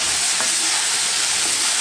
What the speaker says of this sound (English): so I'm just going to stir it into this cabbage